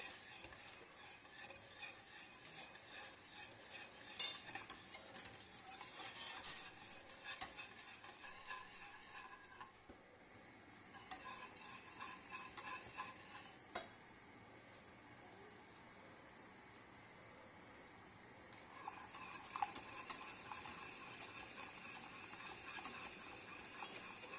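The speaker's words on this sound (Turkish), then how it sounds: "Ve güzelce koyulaşıncaya kadar karıştırıyorum." A spoon scrapes and swirls steadily through a cake cream mixture with butter as it thickens, a soft repetitive stirring with faint clinks against the pot, quiet and continuous with no voices.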